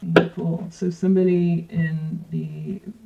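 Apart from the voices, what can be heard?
No distinct noise like a dog, phone or traffic.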